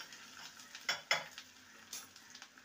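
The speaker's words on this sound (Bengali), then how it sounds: "ফোড়নটাকে ভেজে নেব" A ghee tempering with a dried red chilli broken in two and bay leaf sizzles faintly in a pan, with a couple of sharp stirring clinks, while a voice talks over it.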